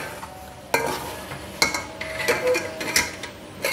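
Beef pulao with yogurt being sautéed in a pot, a steady sizzle with a spoon repeatedly scraping and clinking against the metal, close and clear with no talking.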